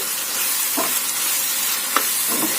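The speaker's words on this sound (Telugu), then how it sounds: "ఇప్పుడు కలుపుకుందాం బాగా కలుపుకోవాలి" Chilli powder being stirred into a sizzling tomato and onion curry, a steady frying hiss with a few soft scraping strokes of the spoon against the pan.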